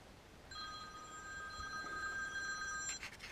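A telephone rings with a steady electronic trill, one continuous ring of a few seconds heard fairly clearly in a quiet room, followed by a few faint knocks as it stops.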